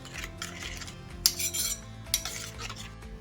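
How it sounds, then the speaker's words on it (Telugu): Ugadi pachadi, with grated jaggery, flowers, salt and chili powder over raw mango, is stirred with a spoon in a bowl, giving close, irregular clinks and scrapes with a few sharper knocks against the side. "ఇప్పుడు మంచి కలిపేసుకుందాం."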